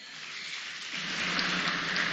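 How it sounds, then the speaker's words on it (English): Rain falls at an outdoor event, a steady hiss of drops on surfaces that thickens and grows louder midway, with no talk over it. "it's raining here"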